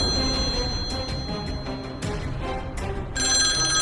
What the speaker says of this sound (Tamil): இந்த போன் வேற அடிச்சுக்கிட்டே இருக்குது. எங்க இருந்து வருது இந்த சத்தம்?